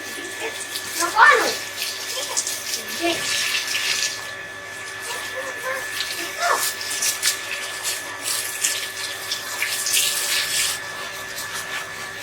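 A steady hiss of water spraying over foliage, with brief murmurs of a voice now and then in the background.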